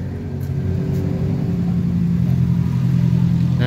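A Yamaha NMAX scooter idles steadily with its CVT rattling and clacking irregularly from a loose part, a continuous close engine drone with no talk.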